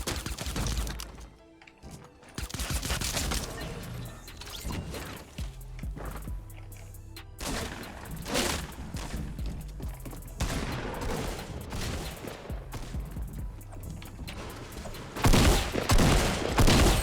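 Shotgun blasts and chaotic battle noise in Fortnite, dense overlapping booms and crashes running throughout with loud impacts near the end, with a voice faintly present.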